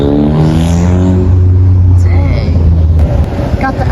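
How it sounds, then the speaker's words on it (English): A turbocharged car at a supercar meet revs its engine. A strong, sustained engine tone swells and then fades, with turbo whine among it. Nearby voices talk over the engine throughout. "Dang, listen to that turbo."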